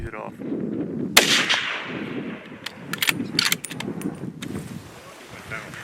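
A single sharp hunting rifle shot cracks out during a New Zealand hunting trip, loud and near, with echoing tail and outdoor rustle afterward, with a few quiet voices around it.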